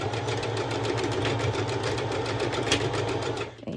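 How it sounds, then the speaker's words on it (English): A sewing machine runs steadily while stitching through a fold of elastic on a wrap dress beach cover-up, a fast even mechanical whir with rapid needle rhythm, close and continuous, stopping near the end. "since it's a fold of elastic, your sewing machine shall not have any issue with this"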